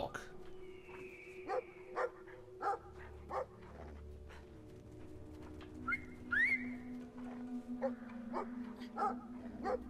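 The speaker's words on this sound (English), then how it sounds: "a big dog" A dog barks in short, repeated bursts in the video game Brothers: A Tale of Two Sons, loud and close, spread across the scene over a background of whistling game music.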